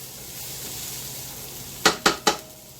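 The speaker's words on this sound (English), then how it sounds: "I'm going to stir this up a little bit" Food sizzling in a pan while lunch is cooked, a soft steady hiss broken by three quick, sharp scraping knocks of a utensil against the pan near the end.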